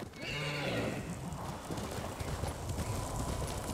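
A horse in the video game Ghost of Tsushima gives a loud whinny near the start, followed by steady hoof clip-clops and busy game ambience.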